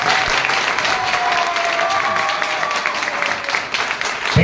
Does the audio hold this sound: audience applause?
yes